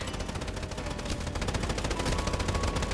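Rapid automatic gunfire in the anime-style third-person shooter Strinova, a continuous dense rattle of shots at steady volume throughout.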